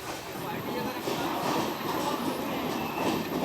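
Inside the Amarkantak Express passenger train running between Bhopal and Durg, a steady rumbling roar of wheels on rail fills the carriage, with faint clacking and a high squealing edge throughout, loud and continuous.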